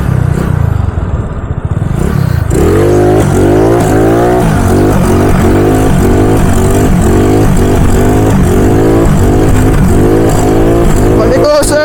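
Motorcycle engine revving hard for a wheelie on a road, repeated rising throttle blips in a fast rhythmic pattern, loud and close, with a voice talking over it.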